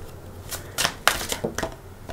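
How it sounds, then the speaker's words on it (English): Tarot cards shuffled up close in a few quick riffling bursts, each a crisp papery flutter with short pauses between, no voices. "I think I'm going to give them another shuffle."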